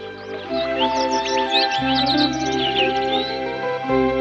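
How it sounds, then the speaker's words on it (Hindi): Small birds chirp and tweet in quick scattered bursts over a droning air-conditioner hum, somewhat distant, in an animated cartoon. "दूर से आती है चिड़िया की आवाज।"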